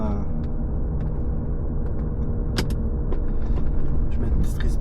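BMW E36 M3 engine idling and rumbling steadily at close range with the window closed, a low continuous drone with faint clicks and some speech-like noise over it.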